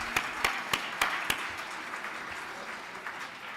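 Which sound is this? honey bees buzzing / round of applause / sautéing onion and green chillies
round of applause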